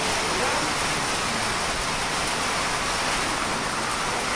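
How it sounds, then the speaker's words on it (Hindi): Heavy rain pours in Nainital, India, in a constant, loud hiss, thick and unbroken throughout, with nothing else audible. "बारिश हो रही है बहुत तेज की।"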